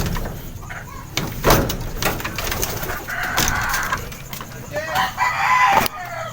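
Racing pigeon being readied for training release, with bird calls, wing flaps and handling clatter in bursts, close and fairly loud, a faint voice in places.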